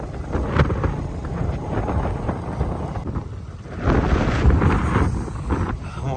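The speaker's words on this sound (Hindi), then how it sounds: "इतनी तेज़ हवा चली रही है" Strong wind buffets the microphone at a bridge construction site in Mirpur, Azad Kashmir, a steady loud rumbling roar that surges harder midway and keeps going throughout, with no voices.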